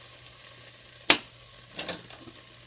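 Melted butter sizzles quietly in a pan, with one sharp crackling spurt and a few smaller pops against a low, steady fizz, close by and with no talk.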